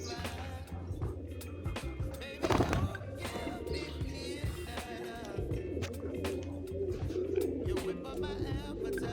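A cross-bred pigeon coos repeatedly, close by, amid other birds and a busy outdoor background, while someone talks intermittently.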